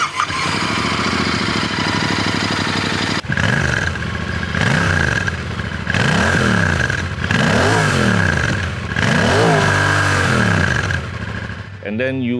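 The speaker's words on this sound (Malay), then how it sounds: "Parallel twin offset crank, bunyi macam firing order dia macam V-twin lah." A Royal Enfield Interceptor 650 with an air-cooled 648cc parallel-twin, offset-crank engine revs loudly and repeatedly from idle, each blip rising and falling in a steady pattern close by.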